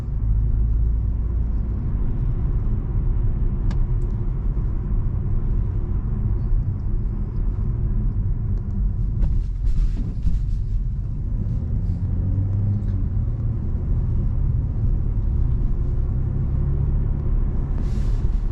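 BMW M340i driving at night in Sport Plus mode, heard as a low, steady engine and road rumble from inside the car, with a few faint clicks and small swells but no sharp revving and no talking.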